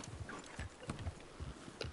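A horse in the Red Dead Redemption 2 video game clops its hooves in a steady walking rhythm, the soft thuds fairly close and moderately loud, with faint breathy noise between steps.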